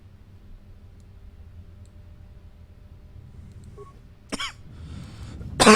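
A person with a cold coughs, one sharp cough near the end followed by another burst, against a low background hum.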